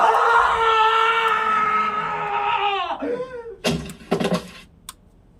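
A person screams in a dramatic scene, a long sustained harmonic cry lasting about three seconds that bends downward at the end, followed by a couple of short loud bursts.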